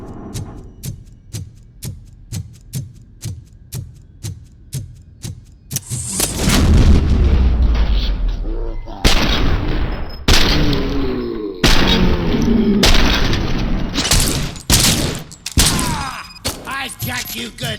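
Gunfire in RoboCop Rogue City: a rapid run of sharp evenly spaced shots, then heavy booming blasts and bursts of loud fire, with talk in places.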